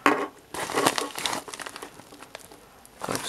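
A small plastic bag of 5-watt E27 LED bulbs crinkles and rustles in close, irregular bursts, loud at first, then softer crackles with short pauses.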